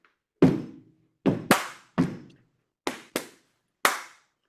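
Seven sharp percussive hits from stomping feet and clapping hands ring out in a body percussion rhythm, with heavy low thumps mixed with bright claps in a steady, loud, close pattern and no talking.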